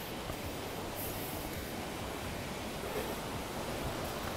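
A river flows steadily nearby, a broad, even rush of water with no breaks, close and fairly loud throughout, with no voices over it.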